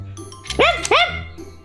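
Two sharp barks from a dog close by, quickly one after another, with a softer yip after them and no talking.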